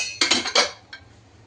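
A lid goes onto a pot of cooking sago (sabudana) with two quick metallic clanks close together and a lighter clink just after, then quiet.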